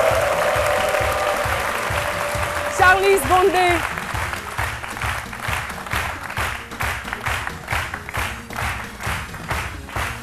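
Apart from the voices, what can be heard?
studio audience applauding a guest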